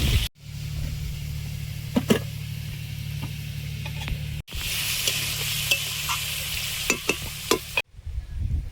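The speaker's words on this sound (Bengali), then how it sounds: "উচ্ছে আলু ভাজাটা করে নেব।" Bitter gourd and potato sizzle steadily in a hot pan while a spatula stirs and scrapes, with a few sharp clicks and brief pauses breaking the frying.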